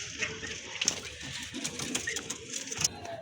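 Pigeons in a Bangladeshi bird collection cooing softly, with faint scattered calls and background murmur at moderate distance.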